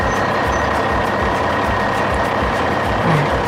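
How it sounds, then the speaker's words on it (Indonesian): Dump truck at an earth-moving site where an excavator loads soil, a loud continuous diesel engine rumble with steady mechanical drone, close and unbroken throughout. "Wah, mobil truk nih teman-teman"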